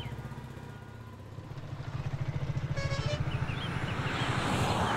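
Vehicle engine idling with a steady low rumble and rhythmic pulsing that grows louder toward the end, heard alone in a movie scene of a car being told to stop.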